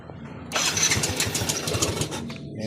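A small engine, just cleaned with gasoline after oil got into the starter, cranks and catches at close range, then runs in a rough, sputtering idle for about two seconds before fading.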